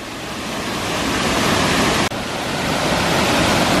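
A mountain waterfall in Jalapa, El Escambray roars as a dense, steady rush of falling water, loud and close, with a brief cut partway through.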